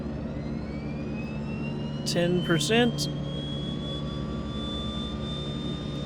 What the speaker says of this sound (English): Let's go ahead and hit the left engine.